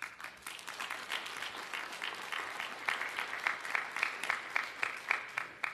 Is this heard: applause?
yes